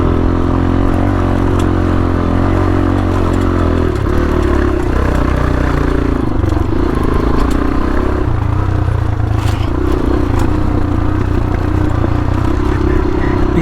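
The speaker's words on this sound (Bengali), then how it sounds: "আমি এখন আমার ইঞ্জিন ব্রেকে নামছি, ফার্স্ট গিয়ারের ইঞ্জিন ব্রেক" An off-road motorcycle engine-brakes down a steep dirt trail in first gear, with a loud, continuous low engine drone and shifting pitch. Scraping and clattering from the rough ground run underneath throughout.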